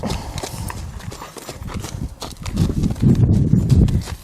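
Hooves of a new horse clip-clop on the ground during its first day of lariat work, the hoofbeats growing heavier and denser toward the end over a low outdoor rumble.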